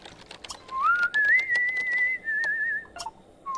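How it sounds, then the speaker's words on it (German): Someone whistles a single long, wavering melodic tone that slides upward and holds, loud and near, amid soft clicking and background noise from a Sims 2 game session. "Wer pfeift denn hier?"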